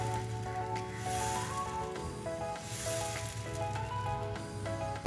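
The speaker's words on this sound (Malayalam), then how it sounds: "പാൻ വെച്ച് ചൂടാകുമ്പോൾ അതിലേക്ക് ബാറ്റർ ഒഴിച്ചു കൊടുക്കാം. നന്നായി നൈസായിട്ട് ഇങ്ങനെ പരത്തിയെടുക്കാം." Oats dosa batter hits a hot pan and is spread thin, giving a steady soft sizzle and hiss that runs without pause, close and moderately loud, with no voices.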